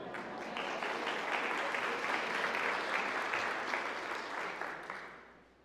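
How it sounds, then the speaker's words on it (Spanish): An audience at a Catholic leadership school talk breaks into dense, steady applause that holds for several seconds and then fades out, with no voices over it. "Un aplauso."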